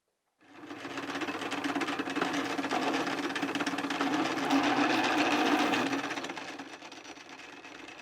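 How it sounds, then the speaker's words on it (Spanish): Motorized machine, a converted hand-operated one, splitting wicker strips for basket making, a steady close mechanical buzzing hum lasting several seconds before easing off, no talk. "hace ya varias décadas Emilio adquirió una máquina que en principio era manual y a la que luego le aplicó un motor"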